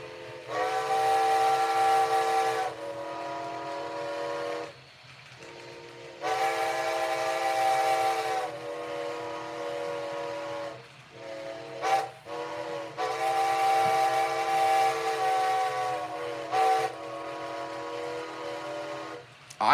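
A recorded six-chime steam whistle from a Reading Railroad G2 Pacific locomotive, number 179, sounds in three long, loud, steady blasts separated by short pauses, with brief clicks between them and no talking.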